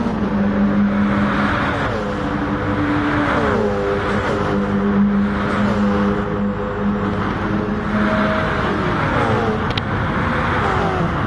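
A supercar engine in an e-sports racing video game roars continuously and loudly, its revs climbing and dropping through gear changes as the car accelerates hard, with other cars droning close by.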